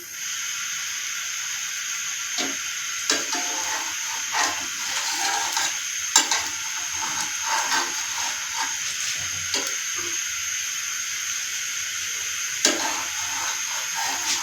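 A spicy potato sandwich coated in masala sizzles steadily in a pan, with a constant hiss and occasional crackles and pops as it fries, and no talking.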